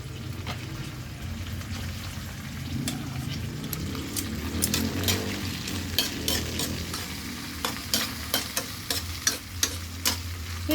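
Sliced eggplant frying in a pan with sardines, with a steady sizzle under repeated scraping and clacking from a stirring utensil that grows more frequent toward the end; close and moderately loud, with no talking.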